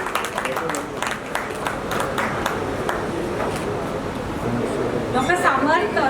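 An audience at a medical lecture applauds a pediatrician, a crowd of scattered claps that thickens toward the end, with a voice talking over it in a large hall.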